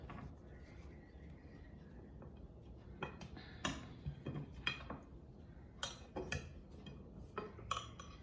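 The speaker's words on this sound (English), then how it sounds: "Sometimes you have to tap the baking pan because, as you know, the sapin sapin is really sticky." A baking pan holding sticky sapin sapin is tapped, giving a handful of sharp metallic knocks and clinks spaced irregularly over a low background hum, fairly close and moderately loud.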